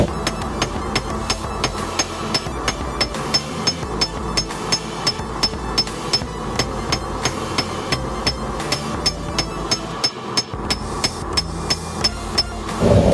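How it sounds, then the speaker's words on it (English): A hammer strikes quarter-inch rebar being flattened on an anvil, ringing in a steady rapid rhythm of loud close metallic blows that go on throughout with no talking. "flatten it out"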